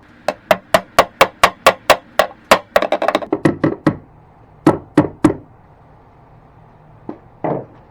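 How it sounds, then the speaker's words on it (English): A hammer knocks a wooden shelf peg into a computer desk in a fast, even run of about a dozen sharp knocks, then a quick flurry, a few spaced blows and one last tap. "testing it with the hammer"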